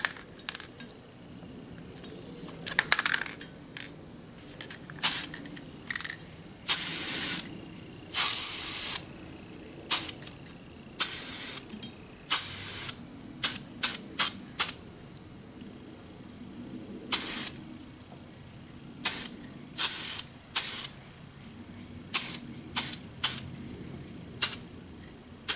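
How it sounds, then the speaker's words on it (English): Repeated short bursts of black aerosol spray paint hissing onto a metal trailer connector mount, some longer than others, separated by quiet gaps and occasional light clinks. "I'm gonna go ahead and spray it black."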